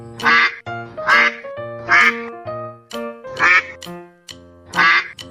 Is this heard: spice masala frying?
no